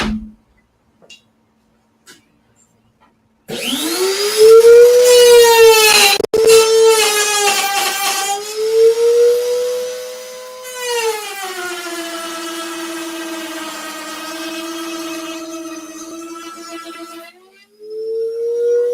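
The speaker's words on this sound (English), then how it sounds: "To cut 1/4 inch deep dado down the side of this" A router on a homemade router table cuts a quarter-inch deep dado in wood, one inch from the edge, spinning up into a loud whining howl that dips in pitch during the cut and then winds down.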